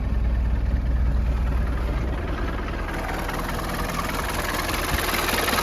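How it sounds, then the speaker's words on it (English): A 1995 Land Rover Defender 90 with a 300Tdi diesel engine idles steadily and close by, a continuous low, clattering rumble with an even rhythm and no other sounds. "Runs like a perfect running 300 TDI and no smoke out of the tailpipe."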